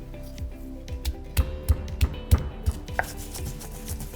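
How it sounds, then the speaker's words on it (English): A pestle pounds ginger, garlic and coarse salt against the base of a mortar for chermoula, making a run of about six sharp, close thuds at a steady rhythm, with no voices. "I start by kind of breaking up the ginger and garlic at the base of the mortar and pestle"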